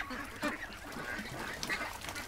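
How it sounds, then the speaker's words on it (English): Ducks at a creek quack and honk in an uneven, busy chorus of calls, heard from a short distance over steady outdoor background noise. "That camera right there is streaming the ducks at the creek here."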